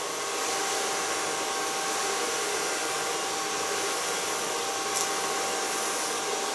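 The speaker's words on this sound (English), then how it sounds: "Put my blow dryer on flat and shine." An ionic blow dryer on its flat shine setting drones steadily and close while drying hair, a loud, even hiss that runs the whole time with one small blip and no speech.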